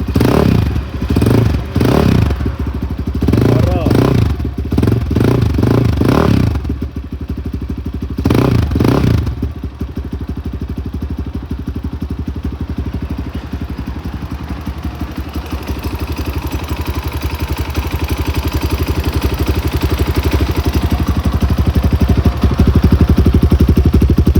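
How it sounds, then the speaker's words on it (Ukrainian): A Kovi Advance 300 motorcycle engine runs loudly and continuously, with heavy thumping bursts early on, then settles into a steady rumbling idle. "Обов'язково ще заведемо цей мотоцикл"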